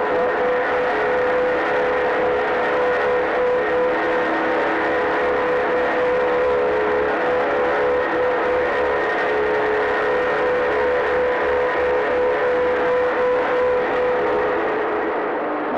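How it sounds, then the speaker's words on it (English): Air compressors run in the compressor building of a sewage treatment lagoon, filling the room with a loud, unbroken mechanical drone and a steady tonal hum with no pauses. "This was the compressor building for the treatment lagoon. This is where the air is forced out into the lagoon."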